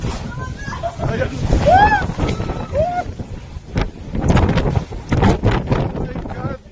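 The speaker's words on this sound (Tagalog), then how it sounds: "Ang lakas ng hangin dito." Strong wind buffets the microphone at a high mountain-top lookout in Bauko, Mountain Province, roaring in loud gusts throughout while people talk and exclaim over it.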